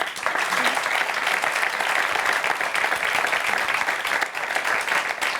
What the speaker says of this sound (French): je vous demande d'applaudir la socio Musa Nostra